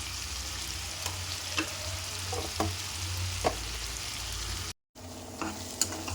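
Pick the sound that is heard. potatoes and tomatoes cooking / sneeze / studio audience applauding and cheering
potatoes and tomatoes cooking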